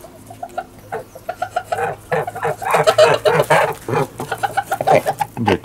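Domestic white geese on a farm cackle and honk in quick, bursting calls close by, growing louder and busier midway through.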